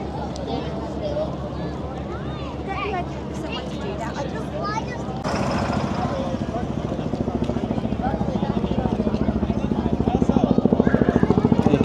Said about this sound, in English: Here comes the Chinook helicopter.